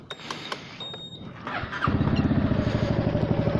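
Honda Forza 300 scooter starting from standstill: a brief starter whirr and mechanical clatter, then the engine catching into a steady, close, pulsing idle with a soft aftermarket exhaust note.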